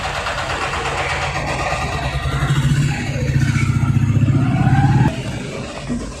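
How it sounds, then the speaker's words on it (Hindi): A small truck carrying a sofa drives away, its engine idling and then revving with a rough, rhythmic clatter, loud and close before it fades slightly. "अभी जा रही है गाड़ी।"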